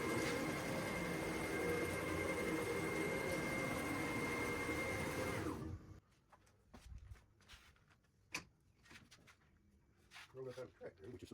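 An Onefinity Elite CNC router traverses its gantry back toward the parking position with a steady, loud motor whir lasting several seconds, then stops abruptly, leaving quiet workshop clicks and light handling noises.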